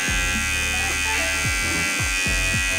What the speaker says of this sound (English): And then the Bevel Pro.